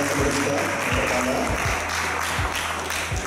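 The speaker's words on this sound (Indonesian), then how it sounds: "Tepuk tangannya untuk Bapak Turi." An audience at an interior design talk applauds steadily in a room, a dense patter of clapping lasting a few seconds with no speech over it.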